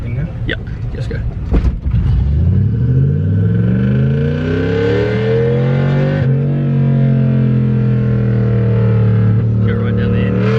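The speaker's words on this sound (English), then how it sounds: "so we're gonna have to pop start it" Toyota Cressida with a swapped 1UZ V8 engine, pop started and driven off, its loud engine revving and rising steadily through the gears up close, with people talking over the roar.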